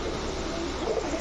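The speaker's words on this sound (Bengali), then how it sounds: "দেখেন বাঘা চুইঠাল গলা কষা মাদি কবুতর" Female Bagha Chuithal pigeons at a pigeon seller's stall give a low, soft cooing that hums steadily and close under a constant background murmur, with a slight swell near the end.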